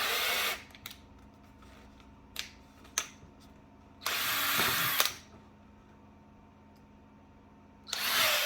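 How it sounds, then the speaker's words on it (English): A power drill with a small 3/16 bit drills holes for light poles in a Christmas automotive holiday display, with short whirring runs and clicks between them, near and alone. "I'm just putting a little 3/16 hole with drill bit here"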